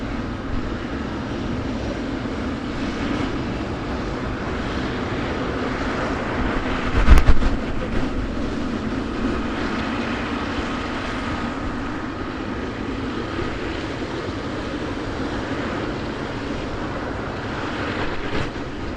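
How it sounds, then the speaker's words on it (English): Etihad airliner in Expo 2020 blue livery touching down at Manchester Airport, a steady broadband jet roar lasting throughout with a brief louder thump midway, heard from a distance without talk. "There she goes, straight past Emirates, just touching down as well. Etihad, that is, touching down now."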